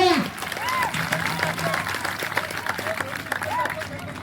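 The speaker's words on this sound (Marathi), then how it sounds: "होऊ दे एकदा खणखणीत टाळ्या" Crowd applause at a competition event, broad sustained clapping under voices and whistle-like cries, loud at the start then steady.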